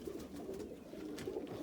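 Fancy pigeons, opals and Indian fantails kept in a loft, coo in low, repeated murmuring calls that overlap steadily throughout, fairly close and at moderate volume, with no talking.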